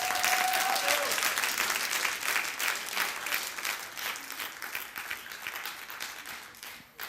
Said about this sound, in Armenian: Ես մի բոլ ծափահարեցի